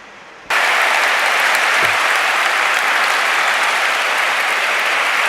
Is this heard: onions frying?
no